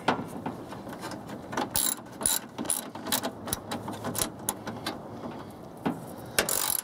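Ratchet wrench tightening the battery support bar bolt on a 2003 Chevrolet Silverado, giving quick irregular bursts of close metallic clicks with short pauses between them.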